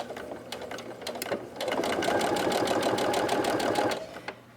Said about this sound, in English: we're going to go ahead and stitch, and back stitch